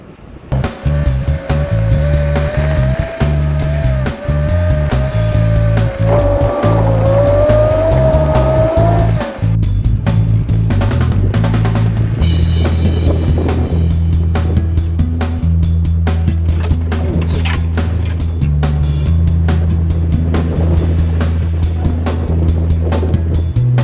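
A pickup truck climbs a steep hill on Maui with riders in the open back. The engine drones loud and close, rising in pitch, then shifts and labors on, while wind and road rumble fill the ride.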